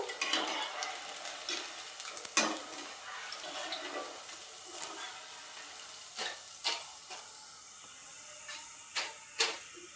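Farali bhajiya fritters fry in hot oil with a steady soft sizzle, broken by occasional sharp clicks and taps as pieces are flipped and stirred; no one speaks.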